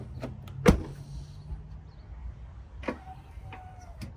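Door of a 2018 Ford F-250 pickup swinging shut with one sharp, solid thud, followed by lighter clicks and knocks from the truck nearby.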